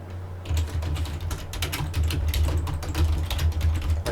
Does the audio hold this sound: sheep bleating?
no